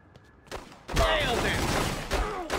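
Gunfire erupts in The Godfather II on PC, a sudden loud volley of close shots after a quiet moment, the sustained crackle carrying through the rest of the short burst.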